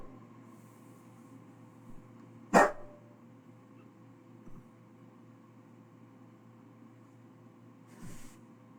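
A dog gives a single sharp bark close by in a quiet indoor room, followed several seconds later by a second, softer bark, with low steady background hum between.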